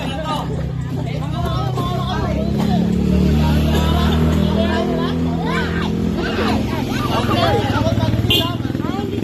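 A motorcycle engine drones and passes close by on a street, its low, steady hum running under continuous chatter from several people talking nearby.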